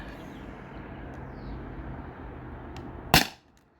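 A single sharp crack from an air pistol, a T4E TR50 or Beeman BP50, fired indoors near a chronograph; one loud, close shot over a low steady hum, then a brief quick decay.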